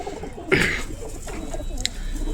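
Pigeons kept in a backyard loft during winter give a soft cooing call among faint rustling, one brief coo standing out near the start of a short, quiet stretch.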